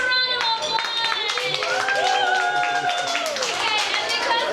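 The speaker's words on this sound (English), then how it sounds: "Give them a round of applause." Audience clapping and cheering at a Disney resort show for two birthday celebrants, steady and loud, mixed with crowd voices, whoops and someone speaking close by.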